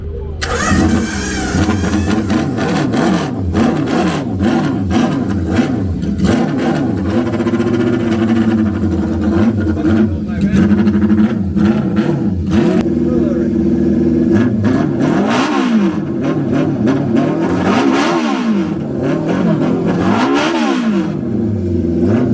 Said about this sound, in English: This Honda, I suspect, is going to be nuclear loud, maybe.